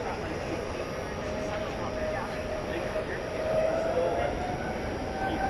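American Airlines Boeing 737 MAX 8 at DFW airport at night: a steady, broad jet roar from a distance, holding level with a slight swell toward the end, no clear voices.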